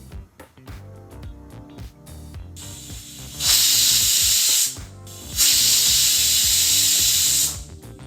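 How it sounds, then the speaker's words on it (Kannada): A pressure cooker on the stove, cooking capsicum and avarekalu masala vangibath, lets out two long, loud hissing whistles of steam, each a few seconds long, after a stretch of quieter clattering and bubbling. "ಈಗ ಕುಕ್ಕರ್ 2 ವಿಸಿಲ್ ಬಂದಾಯಿತು"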